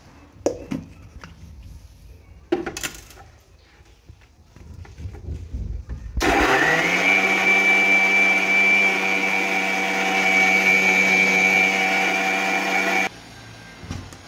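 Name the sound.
electric blender grinding strawberry milkshake with milk and sugar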